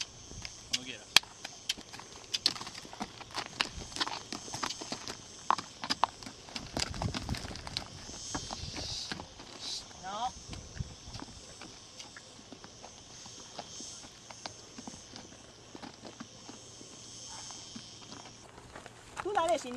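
Horse hooves clip-clop in irregular bursts on a western film set, faint and mixed with handling noise and people talking.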